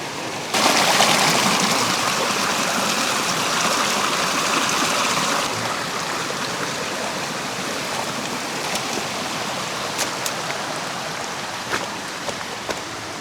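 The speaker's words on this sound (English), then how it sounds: "I think I gotta fill my bottle here." Mountain stream rushes steadily and close by as a water bottle is refilled on a rocky trail, with a few faint clicks and knocks over the flow.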